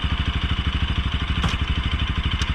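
A motorcycle engine idles with a steady, close pulsing throb as the clutch is pressed and it is shifted into first gear, giving a single brief click partway through.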